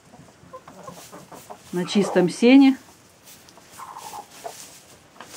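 Laying hens clucking softly while resting on warm clean hay bedding in a winter coop, a few low close clucks and a brief louder call, with someone talking briefly over them.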